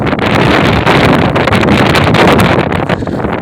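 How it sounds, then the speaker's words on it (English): Strong wind blowing outdoors, a loud, steady roar buffeting the microphone throughout with no speech. "it's literally getting windy out here"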